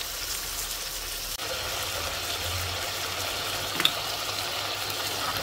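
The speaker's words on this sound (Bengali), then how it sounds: "মাছটা অনেক বড়, তো এটাকে ভালো করে কষাবো" Large fish heads and tails sautéed in a pan, a steady soft sizzle with a faint low hum behind it and a single small clink near the end, fairly quiet and without talk.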